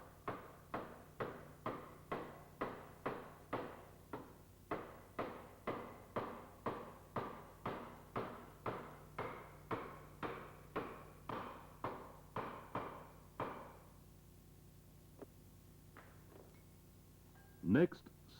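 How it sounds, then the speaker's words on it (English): About two dozen evenly spaced light taps from a plastic hammer on a bearing's inner case, seating it, steady rhythm, then a pause with a few scattered knocks. "Tap the upper bearing inner case with a plastic hammer evenly"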